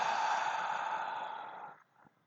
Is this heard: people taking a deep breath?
yes